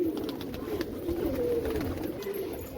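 Pigeons coo steadily at feeding time as grain mixed with roti is scattered for them, overlapping low rolling calls close and continuous with no talking.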